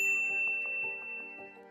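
A bright notification bell dings several times in quick succession, clear and ringing over a steady sustained tone, fading slightly toward the end.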